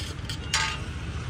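Vegetables roasting slowly over low heat in a pan at a Gujarati street food stall making mag pulao, a soft continuous sizzle with a brief louder scrape or stir partway through.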